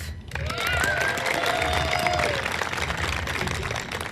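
Audience applause at an outdoor public art unveiling of a Leonardo horse sculpture in Sheridan, Wyoming, a steady wash of clapping with some cheering, voices mixed in underneath, lasting several seconds before easing off.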